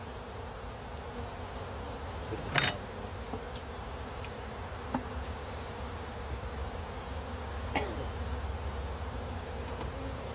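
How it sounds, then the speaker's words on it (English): Honey bees at a small hive hum in a steady, continuous drone, close and even throughout, with a few soft clicks and knocks from the hive frames and no talking. "this was a real small group of bees that we got"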